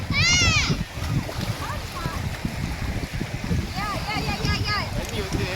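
Children splash in sea water at the beach, with steady wash and splatter under high excited voices and calls, close and busy throughout.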